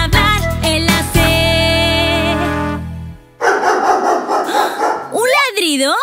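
Barking dog sound in a children's song about a confused dinosaur, arriving after sung lines over a music backing, followed by further lively singing.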